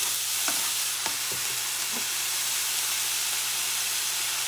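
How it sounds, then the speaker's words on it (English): Leftover turkey stir-fried over high heat in a pan, a steady close sizzle and hiss of frying with a few scraping stirs near the start, no talking. "You mix everything together. High heat still. Move it around because you don't want it burned."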